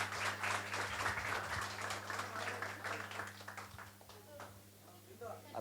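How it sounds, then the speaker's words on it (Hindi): Enthusiastic applause from a gathering honouring a cricket coach on a girls' cricket tour, a dense patter of clapping over a low hum with a voice speaking through it. "जोरदार तालियां इनके लिए"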